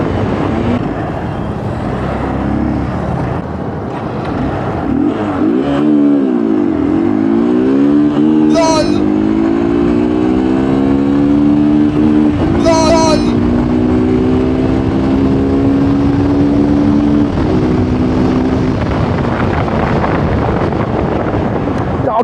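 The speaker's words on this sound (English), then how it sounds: "gear shifts are very nice on this motorcycle" A Hero Xtreme 200R motorcycle engine drones steadily while riding, its pitch rising and falling through revs and gear shifts, with heavy wind rush over the microphone throughout.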